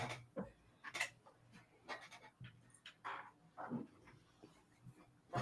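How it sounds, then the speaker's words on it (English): A dog takes a milk bone treat and eats it, with close panting, crunching and small mouth noises coming in short irregular bursts, along with faint whimpers. "Zena, would you like a milk bone? Here you go."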